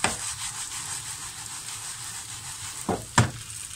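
Künefe cooks in a pan with a steady, close, even sizzle that runs throughout, broken near the end by two quick knocks against the pan.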